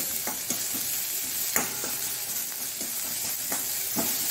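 Garlic sautéing in a pan for Mangalore-style beans sukka, a steady close sizzle and fry hiss with a spoon stirring and scraping the pan every half second or so, no voices.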